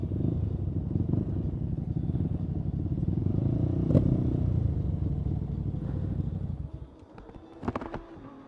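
Motorcycle engines rumble low and steady in a parking area crowded with bikes. The rumble fades away near the end, leaving a few light clatters, and no one speaks.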